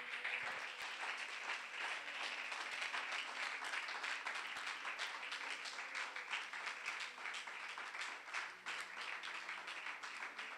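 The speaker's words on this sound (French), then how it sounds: "j'aimerais que tu acclames très très fort le Seigneur" A church congregation claps and cheers for the Lord, a dense, continuous roar of applause sustained for about ten seconds with no break.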